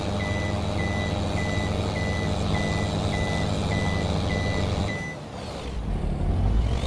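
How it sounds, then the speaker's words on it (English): A lorry in the Farming Simulator 22 video game idles with a heavy diesel drone while a reversing alarm beeps in a steady, evenly spaced pulse; the beeping then stops, followed by a hiss like an air brake and a surge of engine noise. "what I'll do is I'll head back with this lorry"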